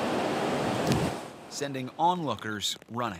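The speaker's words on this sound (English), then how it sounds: "Packing rain and howling winds, a storm cell collides with Victoria," Storm battering the coast at Victoria, B.C., with howling wind and waves breaking: a dense rush of wind and surf fills the opening moments, then sinks beneath a voice that talks over it.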